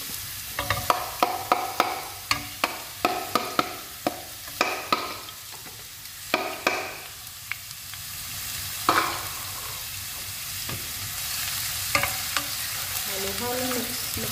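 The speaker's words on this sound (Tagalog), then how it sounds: "Halo-halo, mix with sipos. Hanggang siya ay mag-brown." Ginger, garlic and onion fry in a pan for chicken liver adobo while a spatula stirs them. Rhythmic scraping clacks ride over a constant close sizzle, then the stirring slows into steady frying.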